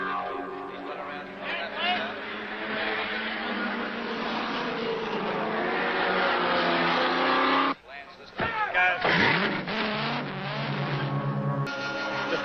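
A 1975 Holden Torana L34 and a Ford Capri race at Bathurst, their engines droning loudly and continuously at a distance beneath steady commentary, with a brief drop and a sharp, whining pass near the end.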